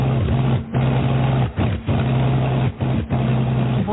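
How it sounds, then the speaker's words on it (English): A comedy sound effect of an aircraft engine cutting out, a droning motor that repeatedly sputters and drops away before catching again, loud and close. "That aircraft engine is cutting out."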